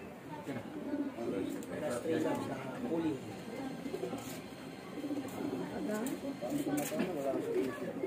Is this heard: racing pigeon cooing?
yes